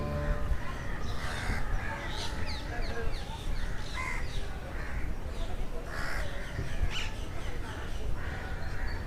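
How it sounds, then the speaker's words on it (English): Birds call from the trees along an elevated forest walkway at Malabar Hill, repeated harsh crow-like caws over a constant busy background hum, moderately distant and fairly faint. "you can hear birds chirping, and that is a very sweet voice of the birds"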